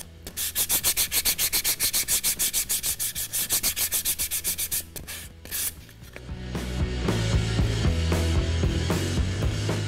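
Sandpaper rubs rhythmically back and forth across a small square MDF box in rapid, even strokes, then the scraping turns into a smoother continuous rasp, loud and close.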